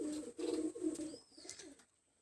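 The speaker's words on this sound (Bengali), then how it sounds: "এই সে গোল্ডেন কবুতর" A golden pigeon coos in several soft, low phrases close by, each rolling note repeated before fading into quiet.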